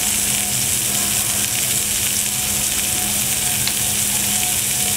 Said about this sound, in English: So now I'm going to add my balsamic vinegar.